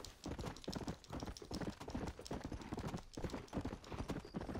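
Horse hooves clip-clop steadily in Red Dead Redemption as a rider travels on horseback, a close, even trotting rhythm that carries alone through the whole stretch.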